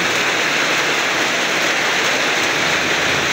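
Heavy rain pours down in a dense, constant hiss, loud and close, with no voices.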